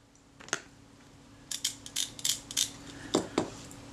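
Shutter of a Kodak Retinette IA camera fired on the B setting, a run of crisp mechanical clicks and snaps, one early then several in quick succession, close and fairly quiet with no voices.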